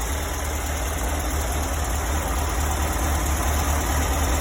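Warmed-up buggy engine idling, a steady close mechanical hum with even low rumble and no change in pitch.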